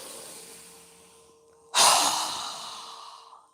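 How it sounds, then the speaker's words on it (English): A single strong exhale through a wide-open mouth during yoga breathing, a loud breathy rush that bursts out midway and fades slowly, preceded by a quieter drawn-in breath, with no talking. "exhale with our mouth open wide with a strong exhale"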